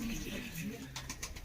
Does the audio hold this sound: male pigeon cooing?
yes